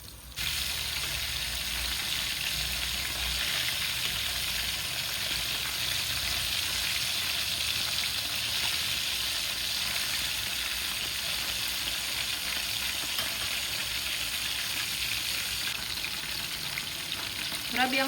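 Squid frying in hot oil for lunch, a steady loud sizzle with crackling spatters that runs continuously for the whole stretch without pause.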